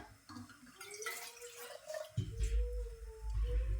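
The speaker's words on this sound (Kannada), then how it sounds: "ಆ ಬವಣೆಗೆ ಇವಾಗ ನೀರು ಹಾಕೊಳತ್ತಿ ನೋಡ್ರಿ" Water poured from a vessel into a pot on a gas stove, splashing and gurgling close by, with a fuller pouring rush toward the end.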